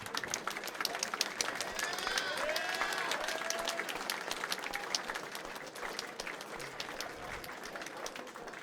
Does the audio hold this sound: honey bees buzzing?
no